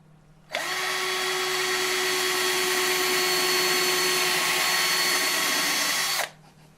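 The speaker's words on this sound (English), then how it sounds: "I'm going to drill and nail another hole on the other side." A power drill whirs at close range while boring a hole into a wooden birdhouse, starting abruptly, holding a steady high-pitched motor whine for about six seconds, then cutting off cleanly.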